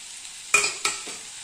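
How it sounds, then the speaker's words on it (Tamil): Drumstick leaves sautéed in a pan: two short bursts of stirring and sizzling over a low background hiss, close and brief. "நல்லா வதக்கி ஒரே 1 நிமிஷம் மட்டும் விடலாங்க"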